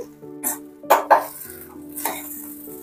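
A spoon scraping and knocking in a pan of uggani as it is stirred, with a few sharp metallic clinks and scrapes over a quiet background.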